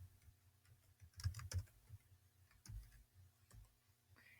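Very faint keystrokes on a computer keyboard come in small irregular clusters of clicks, close and quiet, with no voice over them.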